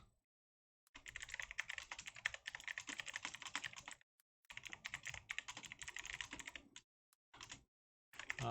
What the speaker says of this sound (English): You're hearing probably both the clicking of my keys and like the typewriter kind of sound too.